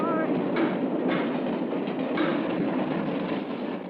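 A New York Central Railroad train rolls past on the tracks, loud and close, with a steady rumbling roar and faint rhythmic clacking of wheels throughout.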